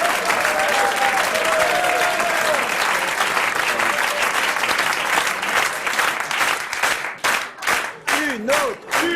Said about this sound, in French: Ces applaudissements spontanés me troublent, me perturbent.